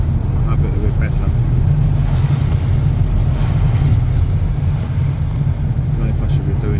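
Car driving through Croydon in South London, a steady low engine and road drone from inside the cabin, continuous and fairly loud with faint background noise.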